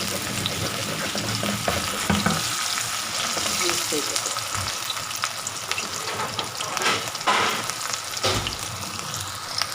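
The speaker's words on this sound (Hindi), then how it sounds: "चपली कबाब बना के ऐसे डाल दें और फ्राई पैन को थोड़ा सा टिल्ट कर दें, थोड़ा सा टेढ़ा कर दें ताकि फुल डीप फ्राई हो जाए" Peshawari chapli kababs deep frying in a tilted frying pan of oil, a dense continuous bubbling sizzle close by with occasional crackles and faint background voice.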